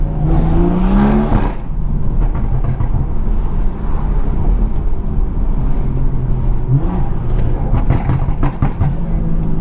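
A blacked-out BMW 340i drives with its engine droning loudly and revving up near the start, while a cluster of sharp exhaust pops and crackles bursts out close by toward the end.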